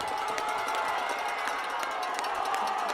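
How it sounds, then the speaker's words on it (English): Football crowd at a high school game between Lake Zurich and Pekin, a steady wash of distant cheering and roaring with scattered claps, continuous and fairly loud throughout. "The crowd rises to its feet."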